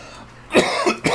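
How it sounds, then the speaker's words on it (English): A person suffering from a bad flu coughs close to the mic, three harsh coughs in quick succession after a brief quiet moment. "I've been coughing a lot"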